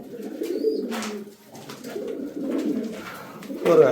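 Doves coo on a farm in soft, low, repeated calls that overlap and swell at intervals, with no talking over them.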